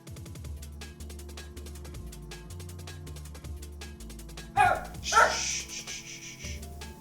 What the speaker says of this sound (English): my doggo will probably start barking in a little bit as well